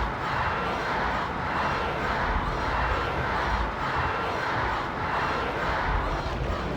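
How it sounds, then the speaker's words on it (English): A stadium crowd at a blitzball match in Final Fantasy X roars and cheers wildly, a dense, sustained wash of massed voices that swells and ebbs in slow waves. "The crowd is going wild."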